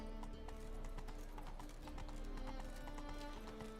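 A horse gallops in The Witcher 3 video game, with quick rhythmic clip-clop hoofbeats running steadily and close throughout, over a layered game soundscape.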